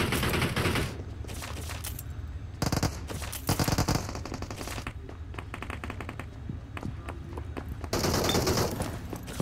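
Rapid bursts of Honey Badger automatic rifle fire in PUBG Mobile, loud and close, in sustained volleys with short gaps, no talk over them.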